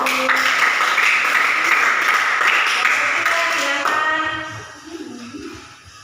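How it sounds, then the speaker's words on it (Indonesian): Classroom applause for a new student group, a dense wash of clapping and hand taps that holds steady for about four seconds, then thins out and fades away. "berikan aplaus untuk kelompok baru"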